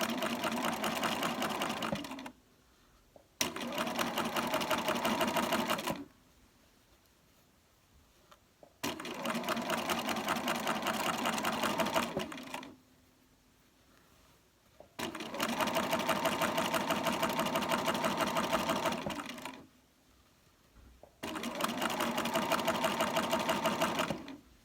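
A Bernina sewing machine fitted with foot 64 stitches a narrow turned hem around a curved edge, running in several long, steady bursts of rapid needle chatter separated by short pauses.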